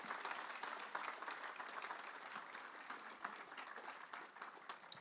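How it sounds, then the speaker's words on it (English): Steady applause from a large audience at a Kentucky FFA gala, dense and continuous for the full span, moderately distant with no talk over it. "Let's give everybody a big round of applause."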